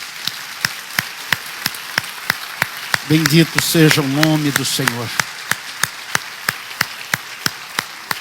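A church congregation claps together in a steady, even rhythm throughout, while a voice speaks over the clapping partway through.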